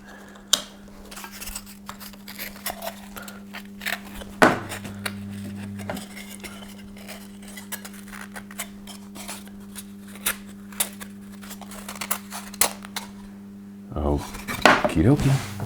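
Craft foam being cut into barrel and cactus props: irregular snips and small crunches up close against a steady electric hum, with clatter as tools shift at the start and end, no talk.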